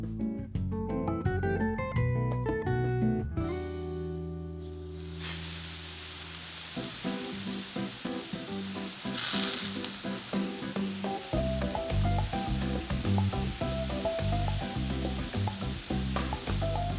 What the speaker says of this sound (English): we're gonna heat up the coconut oil until it reaches smoking point